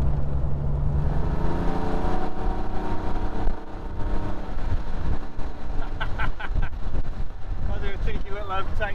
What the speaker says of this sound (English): little overtake there on Phil